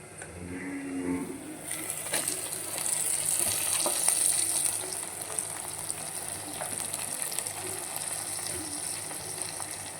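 Chicken pieces frying in oil with softened onions in a clay pot for a cucumber chicken curry, a steady close sizzle with occasional stirring scrapes and crackles throughout.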